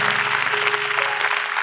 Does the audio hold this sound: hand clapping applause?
yes